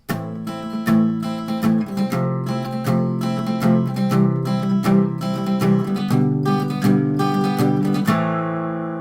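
An acoustic guitar strums chords in a steady rhythmic down-up pattern, close and clear, with several chord changes and a final ringing strum.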